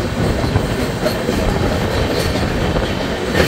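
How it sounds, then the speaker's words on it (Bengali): A train rolls across the Farakka Barrage with a steady, loud, continuous rumble and rattle of wheels on track, heard close and without speech. "এবারে ফারাক্কা ব্যারেজের উপর দিয়ে ট্রেন যাচ্ছে"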